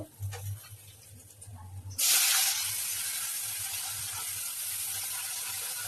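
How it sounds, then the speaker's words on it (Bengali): Potatoes dropped into a hot pan start frying with a sudden loud sizzle that settles into a steady, bright hiss, following a quieter stretch of low background hum. "আলুটা ভেজে দিব।"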